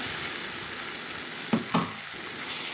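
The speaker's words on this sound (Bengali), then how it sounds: "মশলাটাকে ভালো করে কষিয়ে তারপর মাছগুলোকে ঢেলে দিলাম" Rohu fish pieces drop into frying spice paste, giving a steady close sizzle with a couple of sharp splashing bursts as they land, then the hiss continues.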